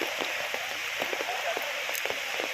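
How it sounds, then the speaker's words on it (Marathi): Steady heavy rain patters and hisses on surfaces in a flooded village market street, with scattered drips and splashes standing out, continuous and moderately loud. "बाहेर खूप सारा असा पाऊस पडतो आहे"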